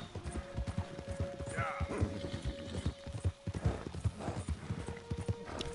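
Horse hooves pounding at a gallop during a long ride in Red Dead Redemption 2, a steady rapid drumming of clip-clops with faint snorts over game ambience, fairly close and continuous.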